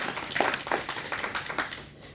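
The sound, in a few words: audience applause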